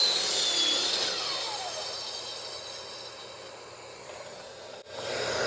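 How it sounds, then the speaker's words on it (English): A hand saw plunge-cuts straight down into wood against a fence, giving a steady, close rasping cut that slowly eases off, then a brief pause before the sawing picks up again. "you want to plunge your saw straight down and make a cut here up against"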